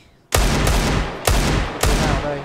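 Desert Eagle pistol shots in Counter-Strike on de_dust2 during a professional ESL Pro League match: three or four loud, heavy single reports spaced unevenly, each with a short booming tail.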